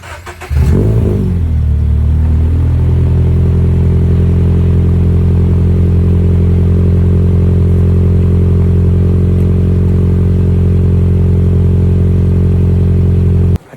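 A first-generation Subaru BRZ with its stock exhaust cranks and fires up close by, briefly flaring before settling into a loud, steady, even idle that holds to the end.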